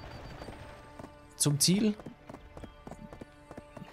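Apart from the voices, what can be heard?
mule hoofbeats in Black Desert Online video game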